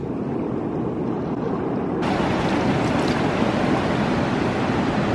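Cold river water in Yosemite National Park rushes in a steady, loud broadband wash, growing brighter and fuller partway through, with no talking.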